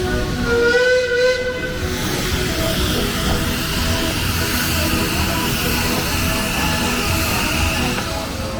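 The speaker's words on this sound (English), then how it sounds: "this is narrow gauge railway. Running 2 locos today." A narrow gauge model steam locomotive hissing steadily with a brief whistle-like tone near the start, rumbling continuously as it runs at a model railway show.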